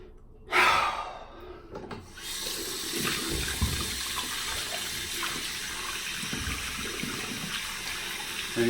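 Hot water runs steadily from a tap for washing with hand soap, a dense, even hiss that starts after a brief splash and a sharp breath and continues without talk.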